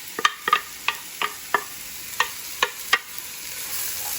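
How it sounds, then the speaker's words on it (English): Onions and celery sizzle in a pot beside a browned roast, with a soft frying hiss broken by about nine sharp stirring and scraping clicks at irregular intervals, close and clear, no talk. "Next step is the onions and the celery in the pot,"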